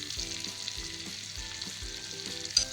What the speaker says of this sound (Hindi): लहसुन को हम कुछ देर फ्राई करेंगे।